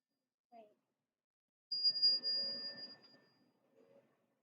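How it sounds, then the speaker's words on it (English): A single bell rings for mindful listening, a clear bright tone that sustains and slowly fades in an otherwise quiet room, with brief faint murmurs before and after. "listen to the sound of the bell"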